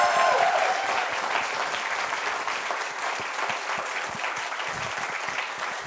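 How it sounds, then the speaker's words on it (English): A sustained round of applause from an audience at an entrepreneurship talk event, steady and full, fading slightly toward the end. "give Zikri, Daniel, and everybody who's part of Incitement a well-deserved round of applause"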